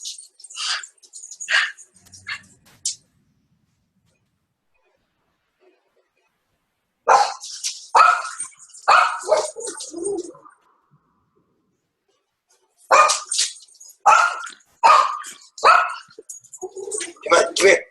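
A dog barks in three separate bursts of several sharp, fairly close barks, with stretches of silence between them.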